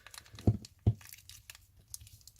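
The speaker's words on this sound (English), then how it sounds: "So let's unwrap it." Plastic blister packaging of a 2018 Bakugan Subterra Translucent Dragonoid toy being torn open, two sharp crackling snaps close by, then faint rustling crinkles, quiet and without talk.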